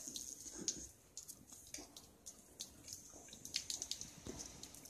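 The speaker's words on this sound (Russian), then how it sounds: "Капель." Meltwater drips in spring from the roof edge outside an open window of a large wood-paneled loggia, faint, irregular drops and splashes scattered over quiet background noise.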